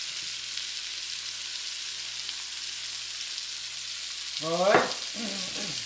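Black tiger shrimp pan-fry and get stirred in a hot pan, giving a steady soft hiss throughout, with a brief spoken word near the end.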